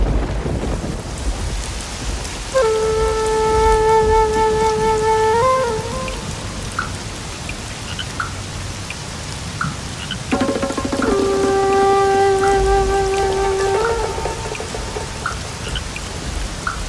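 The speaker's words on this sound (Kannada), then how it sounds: "ಮಳೆ ಮಳೆ" A steady wash of rain fills a film scene, a loud constant hiss, broken by two long sustained horn-like tonal notes a few seconds apart.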